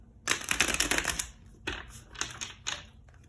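Tarot cards being shuffled and handled, a long riffle of rapid papery clicks followed by several shorter bursts of card flicks close by.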